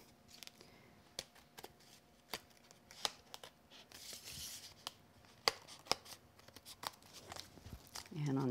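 Scissors snip through several stacked paper layers of a craft frame for a faux wicker background, giving quiet, close, crisp cuts in irregular bursts with soft rustling between them.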